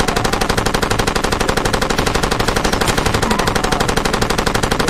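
A submachine gun fires in Far Cry 2 in one long, rapid automatic burst, loud and close, with shots rattling at an even rhythm from start to finish.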